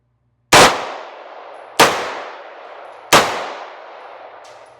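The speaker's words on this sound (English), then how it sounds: "We're going to shoot at the red circles first." Three single shots from a MAC 5k FRT, an MP5 clone, each landing with a sharp metallic clang on a steel target and ringing briefly, spaced roughly 1.3 seconds apart and loud against near silence.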